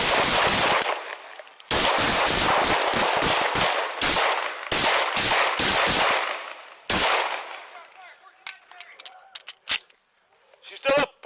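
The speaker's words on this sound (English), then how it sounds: "the report said the 2 officers fired 30 rounds and the other officer fired 7" Police officers fire many rounds at a woman in Denver, heard as rapid volleys of close gunshots in long bursts with short gaps, then tapering to scattered sharp cracks and quieter clicks.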